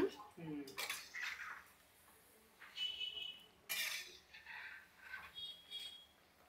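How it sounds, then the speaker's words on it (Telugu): Onion fritters frying in hot oil, turned with a ladle, give irregular metallic scrapes and clinks against the pan over a soft bubbling sizzle, in several separate bursts. "ఇదిగోండి ఇలా తిప్పుతూ ఉంటే బాగా వేగుతాయి అన్నమాట."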